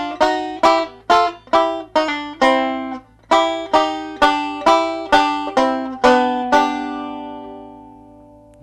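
A banjo brushes Don Reno style chords from an F-position G shape, about a dozen bright, evenly spaced strums with a short break midway, then a final chord left to ring and fade, close and clear with no talking.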